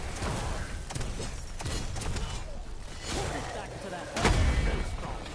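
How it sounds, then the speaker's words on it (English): Call of Duty Black Ops 4 zombies match: a giant cannon pistol specialist weapon fires in repeated heavy booms mixed with game effects and clatter, the loudest blast near the end, while a player talks over it. "shoot everything with a giant cannon pistol"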